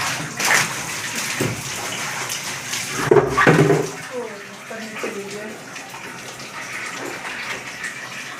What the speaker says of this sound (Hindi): छोटे मोटे बड़े सभी बर्तनों में मैं भर लेती हूँ